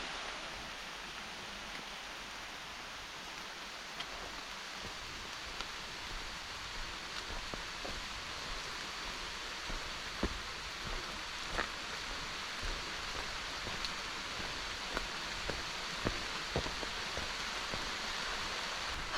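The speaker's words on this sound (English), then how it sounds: "Hoping this is just a quick little rain that passes soon." Rain falls steadily on the Appalachian Trail as a soft, even hiss, with scattered heavier drops tapping nearby on surfaces and no talking.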